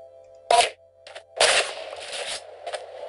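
Shotgun gunfire from a video game: two loud, sharp blasts a second apart, each followed by a short rattling tail, over a faint steady background tone.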